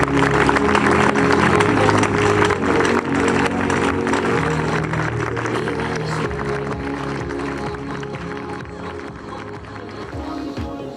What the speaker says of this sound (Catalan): Un aplaudiment per a tots ells i elles.